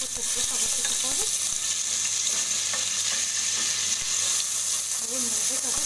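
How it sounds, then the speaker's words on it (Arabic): A spoonful of garlic sautés in oil in a pan, a loud, continuous sizzle and crackle filling the whole stretch, with faint clinks of stirring underneath. "معايا هنا معلقه توم، هاخد تشويحه بسيطه خالص"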